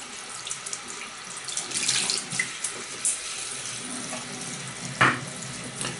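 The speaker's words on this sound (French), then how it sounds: "ma brosse est rincée" A shaving brush rinsed under a running tap, with a steady close rush of water, splashing surges as the brush is worked under the stream, and a sharper splash near the end.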